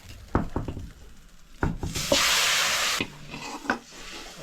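Hot tempering is poured into a Murrel fish gravy cooking at sea, giving a sudden loud, broad sizzle that lasts about a second, framed by scraping, clinking utensil sounds.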